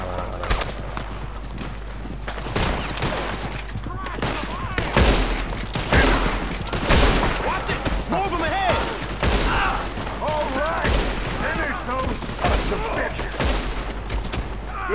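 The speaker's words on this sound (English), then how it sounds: "Good shooting, kid." Rapid volleys of gunfire in Red Dead Redemption 2, loud and close, with bursts overlapping into a near-continuous fusillade while voices talk over the shooting.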